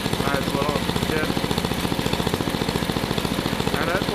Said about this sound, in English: I used to have this motor on a Dynamark lawnmower when I was a little kid.